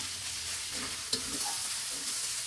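Grated radish mixed with scrambled egg is stirred in a hot pan, a soft continuous sizzle broken by a few quick spatula scrapes and knocks, close and without speech.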